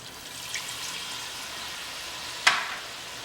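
Kadaknath chicken curry with potatoes and added water frying in a pan, a steady soft sizzle and bubbling throughout with a brief sharper splash or clink near the end, close and fairly quiet.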